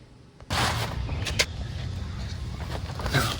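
A power drill bites into the underside of an RV during a hitch upgrade, whirring steadily from about half a second in, with a few brief sharper surges, close and fairly loud.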